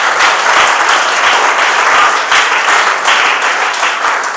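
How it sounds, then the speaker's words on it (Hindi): An audience at a talk on study distractions breaks into loud, sustained applause, dense clapping filling the whole stretch without a pause. "ताली बजा दो जरा इसके लिए, जोरदार तालियां"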